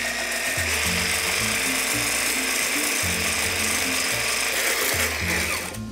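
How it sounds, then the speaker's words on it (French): An electric hand mixer beats sugar, brown sugar and vanilla, making a loud, continuous mechanical whirr with a repeating grinding, ratchet-like pulse as the beaters churn. "Mon petit batteur. Moi, je suis un petit peu feignant, donc j'ai pris un électrique."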